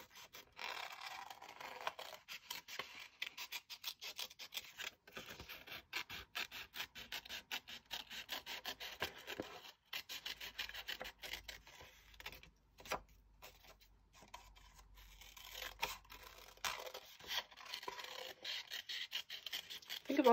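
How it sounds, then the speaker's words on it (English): A paper shape for pop-up art is cut out with scissors in quiet, close, rapid scraping snips that keep a busy rhythm for a long stretch, with short breaks and no voices. "I'm going to cut that shape out"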